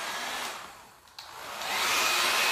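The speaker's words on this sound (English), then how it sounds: "I'm gonna hit this with a hairdryer real fast." A 1980s hair dryer blows with a steady, breathy whoosh, dips briefly as if moved away, then roars back louder and close.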